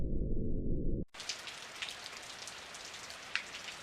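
Steady rain falls on a surface, a dense close patter with scattered louder drops, starting abruptly after a second of low rumbling hum.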